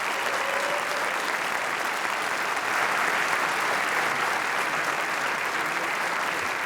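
A BAFTA awards audience applauds at the 2015 Games Fellowship presentation, a full, sustained wash of crowd clapping that holds at an even loudness throughout, with no voices standing out above it.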